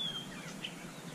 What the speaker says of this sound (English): listening to these birds all singing the songs of new life